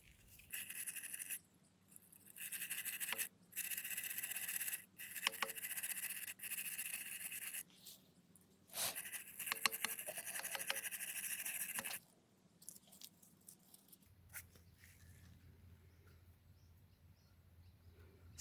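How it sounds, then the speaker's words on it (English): A wire brush and sandpaper scrub rust off a Honda Prelude brake rotor in quiet, intermittent bursts of gritty scratching strokes separated by short pauses, then the scrubbing stops and only faint background noise remains. "I'm just going to use a wire brush and some sandpaper, nothing too fancy"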